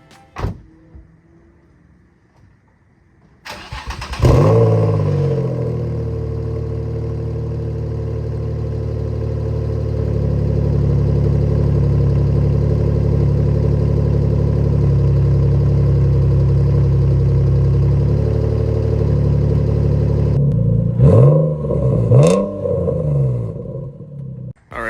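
A Nissan G35 engine with a newly installed exhaust cranks and catches, then idles with a deep, steady exhaust rumble for a long stretch before a few revs near the end.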